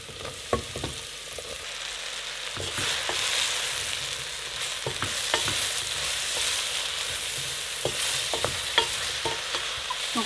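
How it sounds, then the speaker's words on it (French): Shallots and mushrooms fry in a pan with a steady, close sizzle, broken by the sharp scrapes and knocks of a utensil stirring them, no voices. "Donc là on va laisser dorer les champignons au moins 2 bonnes minutes."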